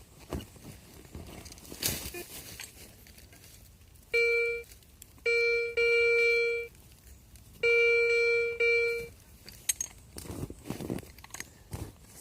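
Metal detector searching for coins and relics in Ukraine gives a tonal signal in four bursts: two short, two longer, clear and fairly loud. Rustling and digging noises surround them.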